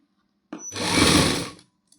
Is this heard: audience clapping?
no